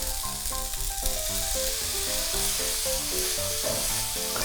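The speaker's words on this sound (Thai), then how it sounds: "ค่อยๆใส่น้ำลงไปนะครับ" Steady loud sizzling and frying as water goes into a hot pan of shrimp and glass noodles, with clinks of stirring over the constant hiss.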